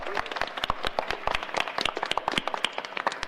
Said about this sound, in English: We have a round of applause for all 4 of them, please.